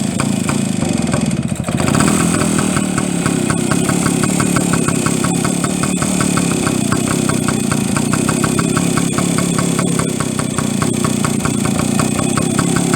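A BSA Bantam motorcycle engine idles while warming up in a workshop, a loud, close, steady putter with a quick rhythmic firing beat that holds throughout with no talking.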